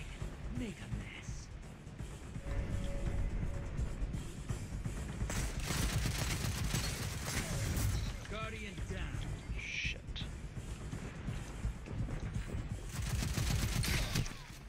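Machine gun fire in the video game Destiny 2 chatters in sustained rapid bursts under a busy mix of game effects, with voices talking over it throughout.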